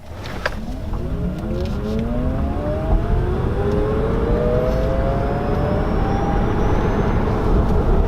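An electric car pulls away hard from a standstill, its motor whine sweeping steadily upward in pitch as speed builds, with road and tyre noise swelling beneath and no talking throughout.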